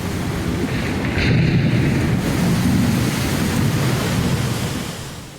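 Storm at sea with a heavy, continuous roar of wind and crashing waves, a loud broadband rush that swells slightly and holds steady for several seconds.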